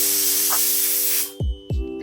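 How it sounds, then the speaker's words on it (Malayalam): Steam hisses loudly and steadily from a pressure cooker cooking beef for a fry, cutting off after about a second, followed by two low thuds nearby. "കുക്കറിൻ്റെ കംപ്ലീറ്റ് പ്രഷർ പോയിട്ടുണ്ട്"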